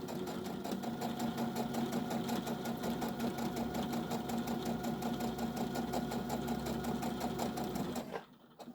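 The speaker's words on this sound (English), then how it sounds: "I'm going to back stitch a couple times on that, and then we are going to sew straight down" A sewing machine runs a seam on a tote bag, a steady rhythmic needle clatter over a low motor hum, close and continuous for about eight seconds before stopping abruptly.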